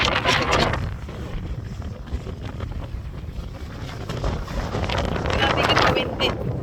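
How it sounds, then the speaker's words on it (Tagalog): Strong gusts buffet the microphone on a windy outdoor walk, a heavy low roar that swells at the start and again near the end. "We cannot walk properly because of the wind."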